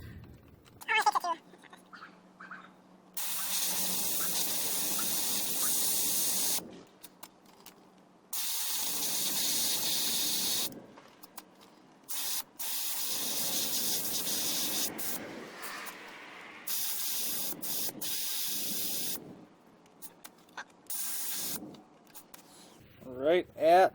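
A Ryobi inflator drains air from a tire in loud, sustained hissing bursts that start and stop several times, with people talking in the pauses between releases.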